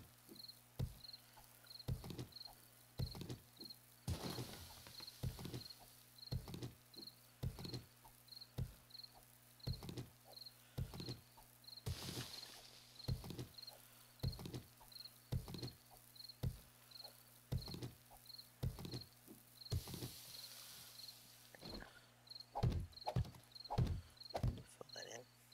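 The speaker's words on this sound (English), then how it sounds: "You can hear the crickets of night coming" Crickets chirp at nightfall in the survival game 7 Days to Die, a steady pulsing insect trill repeating alongside regular soft thudding footsteps, with occasional brief bursts of broadband noise.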